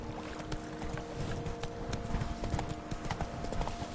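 Horse hooves clip-clop steadily in a video game, a continuous trotting rhythm heard up close over a dense background of game sound.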